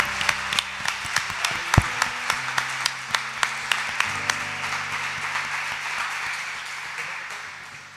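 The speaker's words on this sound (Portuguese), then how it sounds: "Vamos aplaudir Jesus nessa noite." A church congregation claps in a steady rhythm, the sharp claps gradually blurring into looser applause, while sustained keyboard tones hum underneath and the sound slowly fades toward the end.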